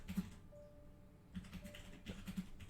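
Quiet, scattered keystrokes on a computer keyboard, a few short bursts of clicks separated by pauses, faint and close with no talking.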